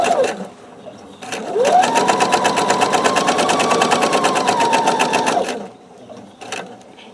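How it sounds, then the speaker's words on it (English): A sewing machine stitches a quarter-inch seam on a log cabin quilt block, its needle hammering in a fast, even rhythm for about four seconds, close and loud, with brief quiet before and after. "match up my raw edges on the right side and sew with a 1/4 inch seam"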